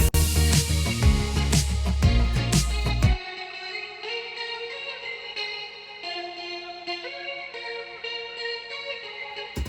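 A guitar melody played through a clean amp with delay, vibe and ringer pedals, starting with a dense strummed burst that then gives way to shimmering, echoing single notes trailing off with warbling modulation.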